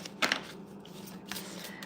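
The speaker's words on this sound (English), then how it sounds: "I'm gonna shuffle, and it's between you and the deck." A deck of tarot cards being shuffled in quick, soft riffling bursts, two crisp flutters close together and then another fainter burst, at low volume.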